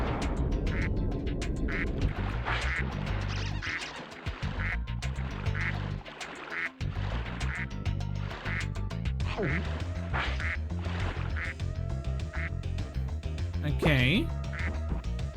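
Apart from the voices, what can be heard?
duck quacking in video game Spyro 2: Ripto's Rage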